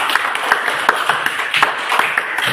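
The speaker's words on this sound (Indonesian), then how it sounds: "Tepuk tangan untuk kita semua." Classroom clapping from a group of children, a steady patter of scattered hand claps at moderate loudness with a few sharper claps standing out, no talk over it.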